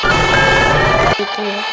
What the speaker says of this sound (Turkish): Bunlar da sirenlerdi.